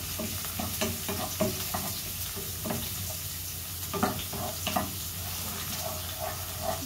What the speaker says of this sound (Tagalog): Gawin ko muna brown ang bawang para mabango ang niluto